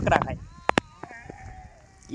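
Sheep in a mixed flock with goats give short, wavering bleats near the microphone, outdoors in rainy countryside, with a person talking at the start.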